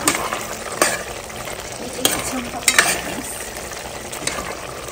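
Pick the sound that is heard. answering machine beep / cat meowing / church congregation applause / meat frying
meat frying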